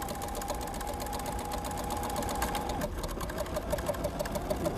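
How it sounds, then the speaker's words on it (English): An embellisher machine drives barbed felting needles through fibers and ribbon floss with a rapid, steady mechanical chatter, close and continuous like a sewing machine. "I'm hitting it with barbed needles, which are pushing the fibers together"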